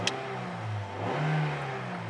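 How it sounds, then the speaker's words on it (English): A 2012 Toyota Corolla S with a 5-speed manual and VVT-i engine is revved while parked: a steady idle rises into a smooth swell of revs, then eases back down, heard close and clear with no talking. "Revs up nicely, idles smoothly."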